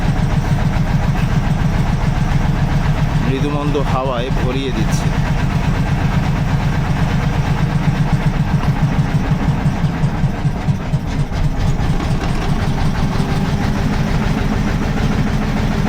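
A slow motor boat on a park lake chugs along with a steady low engine drone throughout, while a person talks over it.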